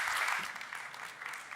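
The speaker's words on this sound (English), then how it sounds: "A big applause to wonderful panelists." Audience applause for panelists at the CV Summit 2023 conference, a dense wash of clapping that runs loud from the start and eases slightly toward the end, with no voices.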